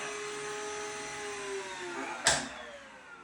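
A Grunhelm GWVC-61 BS cordless wet vacuum cleaner whines steadily at low volume, with a brief sharp click or thump near the end.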